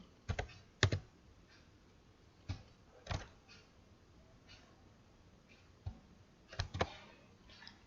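Keys clack on a computer keyboard in short scattered bursts of quiet, close taps while entering a formula in Microsoft Excel, with no talking.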